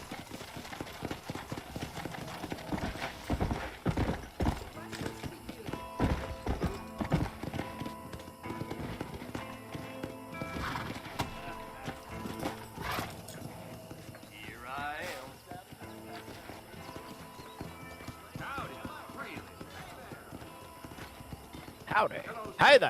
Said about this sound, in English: I like the speed of the horse.